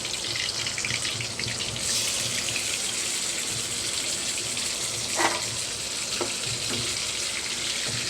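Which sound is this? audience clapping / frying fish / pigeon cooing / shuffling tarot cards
frying fish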